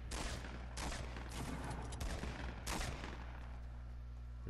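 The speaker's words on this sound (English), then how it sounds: "Oh, I'm getting shot at." Rapid bursts of gunfire in the Fortnite battle royale video game, loud, dense overlapping shots with sharp broadband cracks repeating across the whole clip, no talking.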